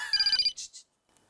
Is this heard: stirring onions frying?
no